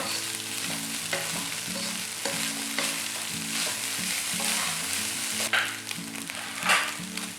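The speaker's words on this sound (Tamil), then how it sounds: "இப்போ நான் ரைஸை வந்து ஃப்ரை பண்ண போகிறேன்" Rice stir-fried over high heat in a pan for roadside-style Tamil chicken fried rice, a loud continuous sizzle broken by repeated scraping and tossing strokes of the spatula, with no talk.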